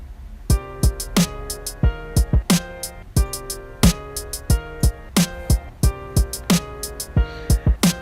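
A looping beat pattern made in Beatmaker 3 with piano chords, snare, kick and hi-hat hits in a regular rhythm, played alone and clear.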